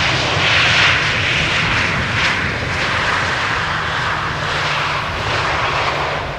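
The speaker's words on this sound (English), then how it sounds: "the wind of the engine is blowing towards us" Arriving airliners roar over Schiphol's Polderbaan runway on a hot, sunny day, a broad, steady jet-engine rush carried toward the listener by the wind, loud and continuous with no voices.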